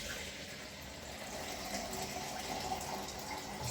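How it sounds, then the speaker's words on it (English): Water runs from a tap into a jar for dye mixing, a steady, quiet hiss and splash that holds evenly throughout without voices. "Just getting some more water over here, fill this one up."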